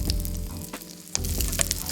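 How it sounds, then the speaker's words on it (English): Korean pancake batter of flour and egg pan fries with a close, steady crackling sizzle and a few small pops and spatters. "And just coat with the flour and egg and pan fry."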